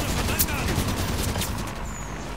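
Dense, rapid gunfire in a Halo 5 co-op match, a loud continuous burst of overlapping shots that fills the moment and thins slightly toward the end.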